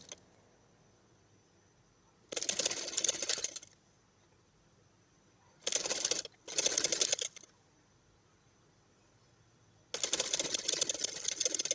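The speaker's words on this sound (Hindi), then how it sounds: "फिर सेक्शन ले रही हूँ और फिर सिलाई लगाते जा रही हूँ" A sewing machine stitches a fabric belt in short sections: four quick mechanical bursts, two longer and two brief, each followed by quiet pauses.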